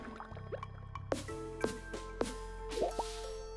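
Water splashing and dripping in a video game, a series of faint separate plops and drips, some brief and some a little louder, over a low background hum with no talk.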